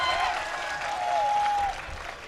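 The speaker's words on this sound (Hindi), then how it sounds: "एक बार जोरदार तालियों से हौसला दो कि मुझे कुछ करना है" Applause from the audience at an All India Mushaira poetry gathering in Gorakhpur, a broad clapping wash heard at moderate distance, with a faint tonal whine drifting through it and the clapping thinning near the end.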